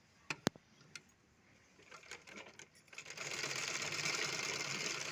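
Sewing machine stitching the sides of a folded fabric piece, starting with a few faint taps, then running steadily and fairly loudly for the last two seconds with no talk.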